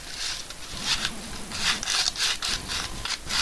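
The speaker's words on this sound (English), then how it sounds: "It's kind of difficult to sandpaper it, really," Wood being sandpapered by hand in a narrow trough, a steady run of rough rasping strokes, close and fairly loud, each stroke a brief scratchy burst in an even back-and-forth rhythm.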